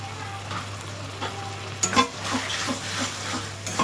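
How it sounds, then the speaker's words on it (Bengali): Taro leaves cooked with a hilsa fish head are stirred in a pan, a moderate steady sizzle with scraping and a few louder clanks of the utensil partway through, close by and without talking. "এইভাবে নাড়তে থাকতে হবে যতক্ষণ না জলটা শুকাচ্ছে"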